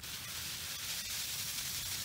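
A spray bottle mists down a houseplant infested with mealybugs, giving a continuous soft, even hiss that stays steady and close throughout.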